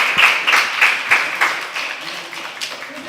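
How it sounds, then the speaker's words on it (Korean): A church congregation at Sunday worship claps to welcome visitors: a fairly close group of clear, rhythmic hand claps that gradually thin out and soften over about three seconds. "박수로 인사드리겠습니다"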